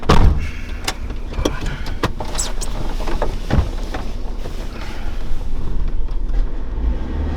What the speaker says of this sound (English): Oh, it's misfiring now.